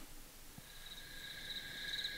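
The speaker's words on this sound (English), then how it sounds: "I love cricket sounds." Synthetic cricket chirps from the Visions preset of the Yamaha Tenori-on iOS app fade in as a soft high trill that grows steadier and louder over two seconds, alone without talk.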